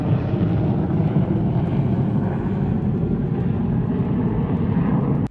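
B-21 Raider strategic bomber in flight, a steady broad roar that holds constant at moderate loudness and then cuts off sharply, with no voices.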